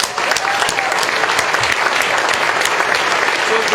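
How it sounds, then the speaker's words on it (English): Audience applause at a Clinton Global Initiative stage event, dense steady clapping from a large crowd lasting several seconds, with no pauses. "Let's give them a big applause."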